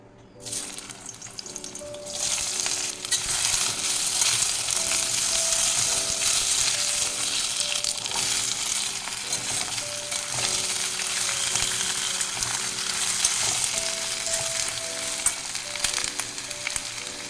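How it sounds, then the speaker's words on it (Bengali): Potato and greens frying in mustard oil in a pan, a loud, steady sizzle that rises sharply at the start and crackles continuously with faint stirring, no voices. "সর্ষের তেল দিয়ে দিচ্ছি একটু আলুটা আর শাকটা একটু ভেজে নেবো"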